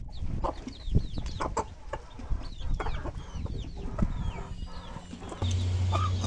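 Free-range chickens cluck and chatter continuously outdoors, several birds calling at once at close range, with a low steady hum joining near the end.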